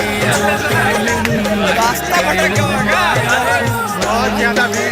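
A dense crowd of pilgrims mills at Kashi Vishwanath temple in Varanasi, India, a loud continuous babble of many voices close around with steady overlapping chatter.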